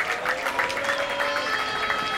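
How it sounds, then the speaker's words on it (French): An audience applauds the winning pair at the final of a FIP Silver padel tournament, a steady loud clapping crowd with some cheering and a faint voice mixed in. "On peut les applaudir très fort."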